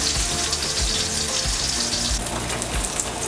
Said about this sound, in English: when your pan is super hot, we're going to put your steak in and we're gonna sear it on one side